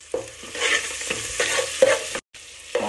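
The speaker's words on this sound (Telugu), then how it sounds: "ఆనియన్స్ రెడ్గా అయ్యేంత వరకు ఫ్రై చేసుకోవాలి." Thinly sliced onions fry in oil in a pan as a spoon stirs them in regular strokes, with a steady close sizzle and a brief cut near the end.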